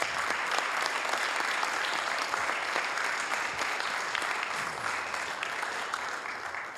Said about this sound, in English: Rahima and Philip, if we can give them a big round of applause.